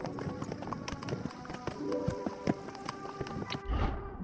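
Horse hooves clip-clop at a steady walking rhythm in the video game Kingdom Come: Deliverance 2, close and moderately loud, accompanied by soft game music and ambient sounds.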